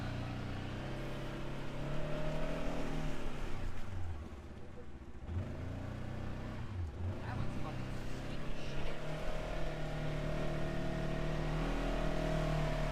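A Segway Fugleman UTV climbs a hill in low gear with four-wheel drive, its engine a steady, close drone that lugs along under light throttle, easing briefly in the middle before resuming.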